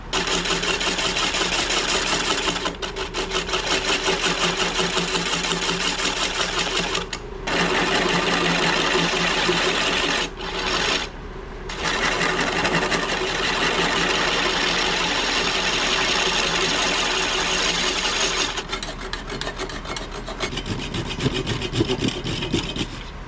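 Wood lathe cutting the tenon off a red mallee burl, a continuous loud rasping, scraping hum from the tool on spinning wood, close up, with a few brief pauses as the cut lifts away.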